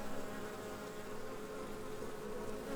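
Honeybees inside an open hive make a dense, even buzzing hum that holds steady throughout at a moderate, close level.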